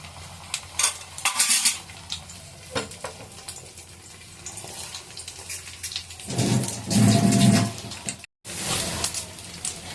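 Beaten egg for a masala egg roll goes into a pan, with utensil clinks and scraping, then a louder burst of sizzling and frying mid-clip before a brief cut and more cooking noise.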